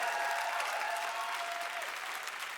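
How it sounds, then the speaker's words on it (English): A poetry slam audience in Guelph applauds steadily, with dense sustained clapping that fades slightly toward the end, a faint tonal hum running underneath. "Clap it up, Guelph"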